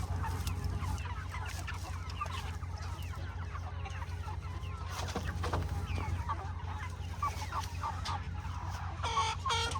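Chickens are loaded at night, clucking and squawking continuously with many overlapping nearby calls over a steady low engine-like hum, without talk.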